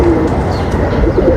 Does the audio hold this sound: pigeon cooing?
yes